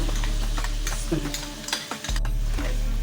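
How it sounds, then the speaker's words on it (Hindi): Garlic ginger paste fries with goat meat in a pan for aloo gosht while a utensil stirs it, giving a loud close sizzle and scraping with a brief clatter and no clear talking. "लहसुन अदरक के साथ ही अच्छी तरह भूनेंगे"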